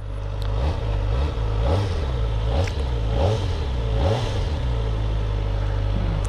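A Kawasaki Ninja ZX-4RR engine, new and being broken in on the road, revs in repeated rising and falling pulses, loud and close over steady wind and road noise.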